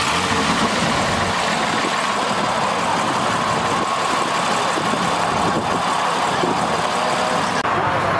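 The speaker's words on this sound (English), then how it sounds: "Let's grab the startup on the 911 Carrera 4S" A Porsche 911 Carrera 4S idles at an outdoor car meet, a steady, mid-pitched engine hum running continuously with faint crowd ambience around it.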